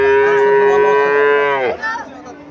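A lean Sahiwal cow at a cattle market in Comilla lets out one long, loud, close moo lasting over a second. It drops off into faint background chatter.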